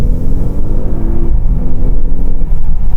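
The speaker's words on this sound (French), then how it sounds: "Je fais tomber un rapport et j'accélère" Deep, loud engine rumble from a 605 hp Audi S8 dropping a gear and accelerating, heard from inside the cabin as a steady low drone with a slight pitch drop midway and no talking.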